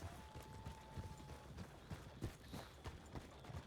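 Horse hooves clip-clop at a steady walking rhythm in a video game, faint and close, with soft background ambience.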